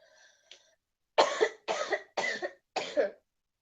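Four harsh coughs in a quick, evenly spaced series from a tickle in the throat, close and alone after a faint brief sound.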